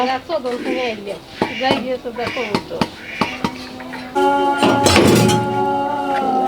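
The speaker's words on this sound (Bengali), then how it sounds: "তেলাপিয়া মাছ কুটছেন" Repeated sharp chopping thuds of a knife cutting tilapia fish on a board, irregular in rhythm, with a person talking throughout and a metallic clatter near the end.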